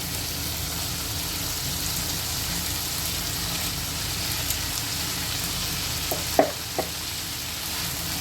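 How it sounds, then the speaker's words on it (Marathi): Washed cabbage sizzles and fries steadily in a hot pan, a continuous crackling hiss with a few brief clinks of a utensil against the pan near the end. "आता ह्याच्यामध्ये आपण आपली छान धुवून घेतलेली कोबी टाकून देऊया"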